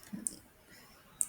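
Two crisp computer mouse clicks about a second apart, close and quiet, with near silence between them.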